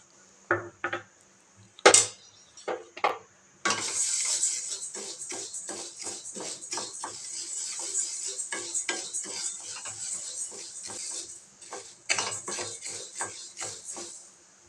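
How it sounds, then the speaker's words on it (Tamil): Horse gram dry-roasts in a pan, scattered clinks and taps at first, then a steady crackling rattle of popping seeds with stirring against the metal pan, close and moderately loud. "கொள்ளு நல்ல படபுடன் பொரியும்"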